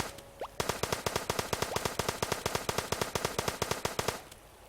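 Rapid automatic-sounding pistol fire in the video game Starbound, a steady burst of about thirty close, sharp shots lasting roughly three and a half seconds, preceded by a short rising electronic blip.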